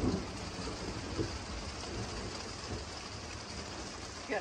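Steady rain with a low rumble of distant thunder during a monsoon lightning storm, a continuous wash of noise running the whole time with faint bursts near the start.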